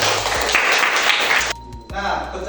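A class of elementary school children claps together in a dense, loud burst for about a second and a half, then the sound gives way to a teacher's voice.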